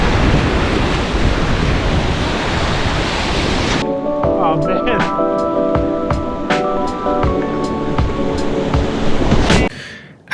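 Whitewater river waves rushing during a kayak run on the USNWC Wilderness Channel; a loud, steady roar of churning water and wind buffeting fills the first few seconds, then gives way to quieter splashes and tonal sounds.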